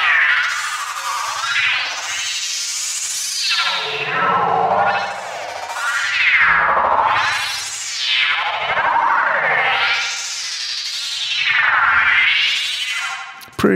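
A synth patch in Vital with a fast delay driven by a macro, sweeping up and down in loud, continuous waves with dense repeating echoes, in mono with no talking.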